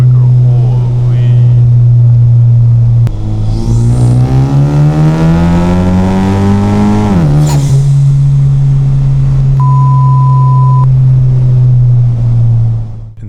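An EcoBoost car with a CVF catted downpipe roars loudly through a pull, the exhaust pitch climbing steadily before dropping back to a constant drone, close up and dominant.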